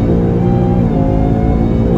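A Mustang fitted with a 3.0 Whipple supercharger pulls hard, a loud, steady engine drone heard from inside the car, with voices mixed in.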